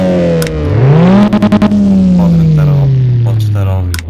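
Car engine revving in the video game OverDrift Festival, a loud close rev that climbs, stutters briefly at the limiter, then winds down, with a voice talking over it.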